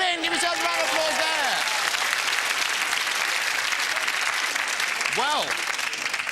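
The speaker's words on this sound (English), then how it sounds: "Give yourselves a round of applause" A TV quiz show studio audience applauds in a full, steady burst that lasts throughout, while a voice speaks over the clapping at the start and again near the end.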